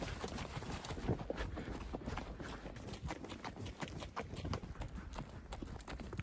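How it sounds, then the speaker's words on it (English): Horse hooves clip-clopping on a long ride through the Mongolian wilderness, with a steady, moderately paced rhythm of close hoof strikes under constant wind and outdoor noise. "I think my horse is getting a little bit tired because he isn't walking so fast anymore."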